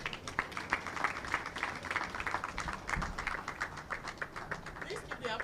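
An audience at a formal report-launch event on maternal health care claps steadily, a faint spattering of applause that carries on throughout without pause.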